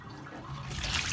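Water drains steadily from a jacuzzi tub, a continuous rushing gurgle that swells louder toward the end, close by with no talking.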